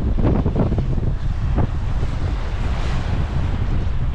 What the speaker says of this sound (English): it's really, really windy